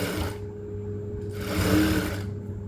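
A sewing machine runs steadily while stitching a folded hem during a beginner's tailoring lesson, its motor whirring in bursts that pause and resume, close up with no talk.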